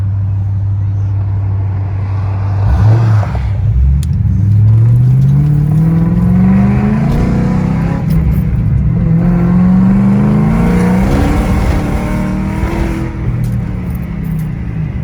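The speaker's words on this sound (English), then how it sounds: "Race car, spinning uphill." A race car spinning its wheels uphill: a loud engine revs and drones steadily, pitch climbing and dropping as it strains, close and continuous throughout.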